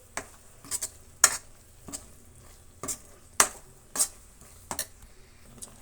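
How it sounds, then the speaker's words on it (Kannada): Grated coconut is stirred in a pan, heard as a series of sharp, intermittent scrapes and clicks of a spoon against the metal over a quiet, faint background sizzle. "ಒಂದು ಅರ್ಧ ನಿಮಿಷ ಅಷ್ಟು ಆ ರೀತಿ ನಾವು ಫ್ರೈ ಮಾಡ್ಕೊಳ್ಳೋಣ."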